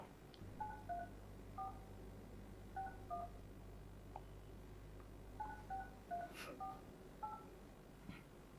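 Telephone keypad tones sound as a number is dialed for a call, short beeps in quick clusters, faint over a low steady hum.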